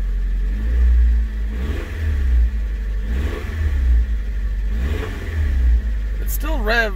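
An ageing Honda engine with a rattle on starting idles with a deep low rumble, then revs up in a few rising and falling surges close by, and a voice speaks briefly near the end.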